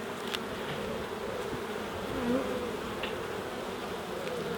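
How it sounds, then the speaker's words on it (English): Honey bees buzz around an open hive, a soft continuous hum of many insects with a few individual bees passing close and drifting in pitch, fairly quiet. "They're quite calm, the bees."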